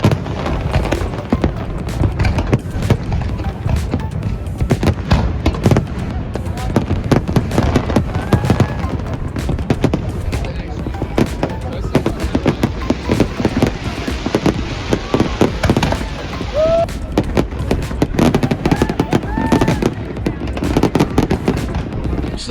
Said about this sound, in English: just taking in the fireworks